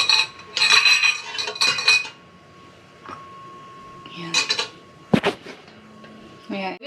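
Metal utensils clink and scrape against a dish while raw meat is mixed with a little water in a home kitchen, in short bursts separated by quiet gaps, with one sharp knock near the end.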